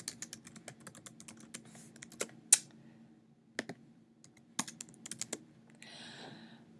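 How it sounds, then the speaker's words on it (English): Computer keyboard keys tapped in short irregular bursts as a title is typed, close and quiet, with a few sharper clicks and a soft rustle near the end. "for the title, I'm just going to write,"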